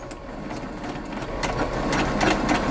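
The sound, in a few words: sewing machine stitching between two lines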